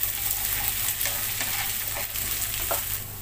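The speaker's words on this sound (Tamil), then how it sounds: "சதுரை இதே தான் நல்லா வதக்கி வேக வச்சுக்கலாம்." Broad beans (avarakkai) being sautéed in a pan for a Tamil kara kuzhambu, with steady frying sizzle and repeated scraping stir strokes of a spoon through the close, continuous cooking noise.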